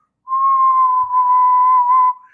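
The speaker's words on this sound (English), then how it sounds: "you can see my whistle at 1 kHz." A person whistles a single steady note around 1 kHz for about two seconds, clean and close, starting and stopping abruptly with only a slight dip midway.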